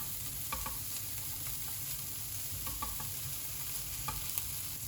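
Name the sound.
bacon (Speck) frying in a pan for carbonara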